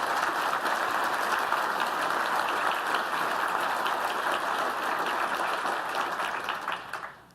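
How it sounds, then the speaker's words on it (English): A conference audience at a software developer event applauds the team, sustained and fairly even clapping across the hall that fades out at the end. "can we get a huge round of applause for the EF team?"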